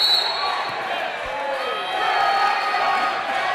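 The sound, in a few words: home crowd cheering at volleyball match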